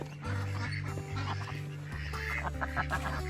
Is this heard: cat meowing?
no